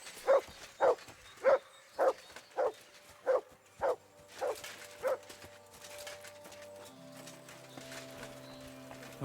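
Mutt the dog barks in Kingdom Come: Deliverance II, about nine sharp, evenly spaced barks close by in a steady rhythm. A low sustained tonal drone follows once the barking stops.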